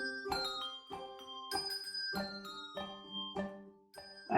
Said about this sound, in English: They're doing bell practice.